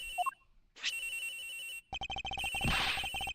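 A cell phone rings from inside a locker in the Ace Attorney Investigations video game, with electronic tones and bright chimes followed by a fast, rapidly pulsing ring that builds in intensity.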